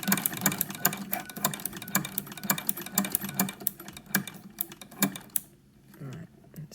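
A domestic sewing machine fitted with a ruffler attachment stitches fabric along a curve, a rapid rattling mechanical chatter with sharp periodic clicks. It runs steadily and close, then stops near the end and leaves a quieter pause.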